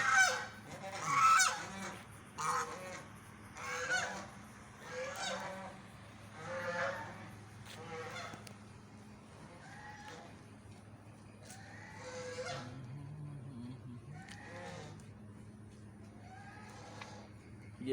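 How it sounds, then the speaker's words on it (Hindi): Farm ducks and geese honk and quack repeatedly at night, a string of loud, close calls in an irregular rhythm over a steady low hum from the poultry farm. "डक है, अटैक भी कर देती है।"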